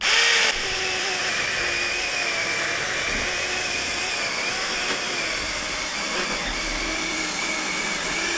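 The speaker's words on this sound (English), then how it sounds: "Just let the saw cut it." A battery chainsaw whines steadily as it cuts through wood, a continuous close, loud motor and chain drone that holds for the full stretch with only slight changes in load and no talking.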